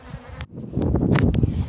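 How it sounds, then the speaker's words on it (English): Honey bees buzz and swirl close around a beekeeper, a steady droning hum with passing bees flaring louder as they fly near, and no talking. "I've got bees following me all over the place, as you can see."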